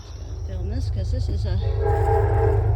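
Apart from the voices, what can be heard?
passing train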